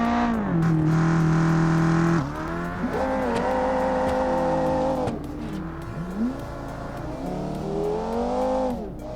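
Simulated car engine in the game Automation, a 1982 Viper concept build, revving up and down through several gear changes with rising and falling pitch, loud and close, no talking.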